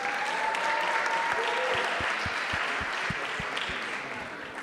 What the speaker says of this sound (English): can I please have one last applause